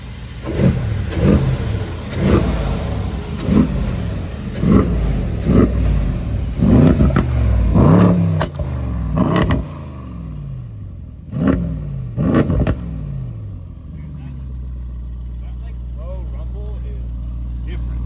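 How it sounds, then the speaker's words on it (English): A Mercedes E63s AMG wagon with a Meisterschaft exhaust and Stage 1 tune revs repeatedly nearby, a series of loud, deep rumbling bursts that settle into a low idle, with people talking around it. "That like low rumble is fucking fire."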